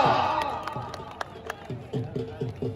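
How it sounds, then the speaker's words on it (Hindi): A crowd claps and cheers at a camel race and dance competition, with scattered sharp claps and voices rising over a noisy gathering, fairly close. "जोरदार तालियां"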